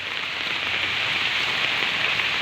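Steady rain falling on surfaces near an outdoor fish tank, a dense, even hiss that continues unbroken with no voices.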